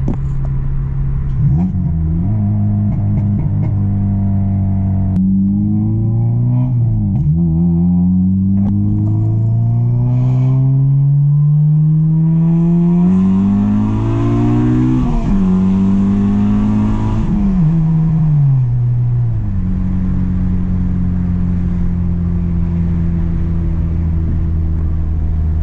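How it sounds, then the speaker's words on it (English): A loud Honda Civic Si running on E85 revs repeatedly from close by, its engine note climbing and falling in several long sweeps, with a raspy, droning exhaust tone and no talking. "This car sounds so damn good."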